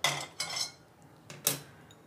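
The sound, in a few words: pouring roasted black pepper into a pan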